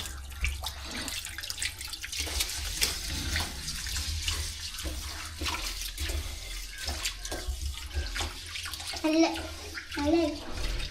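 Water runs steadily from a tap into a vessel while rice is stirred and rinsed, with people talking over the flow.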